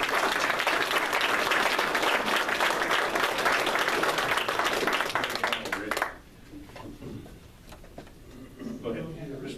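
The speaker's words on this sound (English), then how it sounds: "I'd like to offer them a round of applause for the work they did" Audience applause at a Butte Fire community workshop for the Rancheria's shelter work, a steady, fairly close burst of clapping lasting about six seconds before it stops abruptly, followed by quieter room sound and faint talk.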